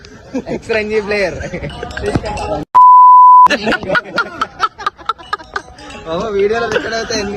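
A single steady electronic censor beep, about a second long, cuts sharply into loud excited talk during a box cricket game, with people chattering before and after.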